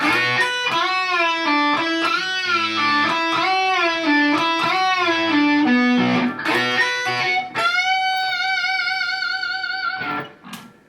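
Electric guitar working through the last section of a solo: fast, ringing lead phrases with bends, then a held higher double-stop figure, loud and close with no voices.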